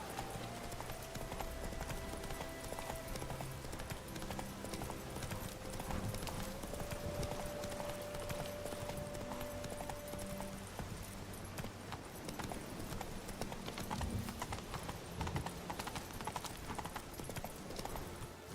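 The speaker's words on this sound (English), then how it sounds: "Run, Roach." Galloping horse hooves in The Witcher 3, a steady rapid clip-clop running the whole time under a busy game soundscape with music, loud and continuous.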